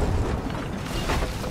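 Cannon fire booms in the pirate video game Sea of Thieves, a loud, rumbling, continuous blast-laden roar with no voices over it.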